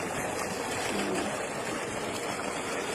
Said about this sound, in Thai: นี่ฝนตกหนักมาก